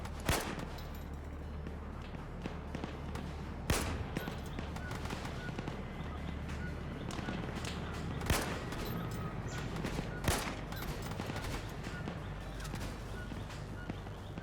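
An RPG rocket launcher fires in Arma 3 amid a steady battlefield din, with a few sharp loud blasts standing out at spaced intervals over constant background rumble.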